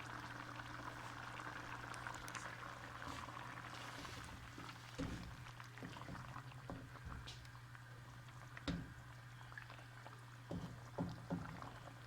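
Soft, steady sizzle of liver (kaleji) frying in oil with garlic and a little leftover water, quiet and continuous under a low hum, with occasional clinks from stirring.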